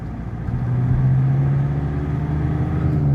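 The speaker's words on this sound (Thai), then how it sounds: "เราทำการลากรอบกันเลยนะครับ ลากรอบกันเลยนะครับ อัตราการเร่งก็พุ่งมาทันทีนะครับ" A repaired Nissan ZD 3.0 diesel engine revs up steadily and holds at a high, droning pitch, loud and close with no voices.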